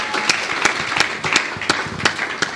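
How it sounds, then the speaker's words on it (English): An audience claps at a church health talk, a modest group of hands producing distinct, fairly regular sharp claps close by, without voices. "Can you clap for that?"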